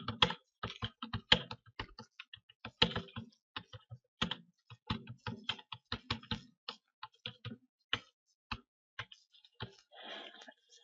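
Typing a heading on a computer keyboard, a near, irregular series of crisp key clicks in quick bursts with short pauses, alone without talk.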